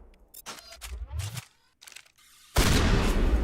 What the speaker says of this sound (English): That's my sniper rifle.